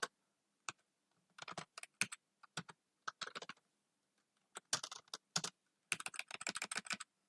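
A computer keyboard clatters in quick irregular bursts of close, crisp keystrokes as HTML code is typed, separated by short quiet pauses.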